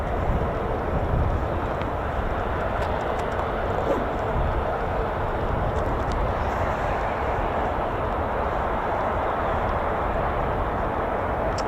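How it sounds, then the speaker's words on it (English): F-35 fighter jets taxi across the runway at RAF Lakenheath, a steady distant engine roar and rumble holding at an even level throughout with no clear peaks. "More F-35s just taxiing across the runway"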